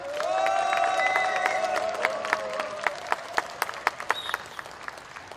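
A crowd at a book launch for author Lim Sang-su claps and cheers loudly, a dense roar of applause with whoops that thins into scattered sharp claps toward the end.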